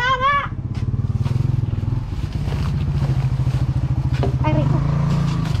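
A motorcycle engine putters steadily close by, its rapid pulsing drone running through most of the stretch, with brief voices at the start and near the end.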